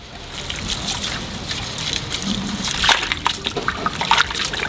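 Coarse rock salt pours and rattles in a gritty, crackling stream onto a whole goat biryani cooking outdoors in a garden village setting, with scattered sharper grains pattering close by.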